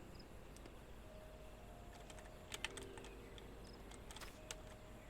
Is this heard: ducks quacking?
no